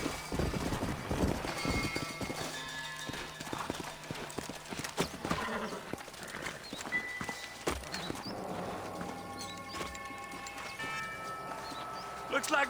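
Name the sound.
horses in video game Red Dead Redemption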